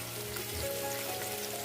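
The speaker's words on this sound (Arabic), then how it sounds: "نحطوهم في الزيت بالعالي خاطر يعطيو بو بنين ياسر" Fava beans frying in oil over high heat give a steady, close sizzle with dense crackling, continuous and even throughout, with no talk.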